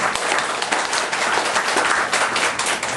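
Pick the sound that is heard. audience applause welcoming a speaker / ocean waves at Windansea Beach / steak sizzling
audience applause welcoming a speaker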